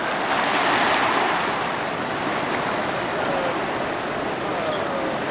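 Ocean surf breaks continuously at a bay in Chacala, a broad steady roar of waves with wind buffeting the microphone.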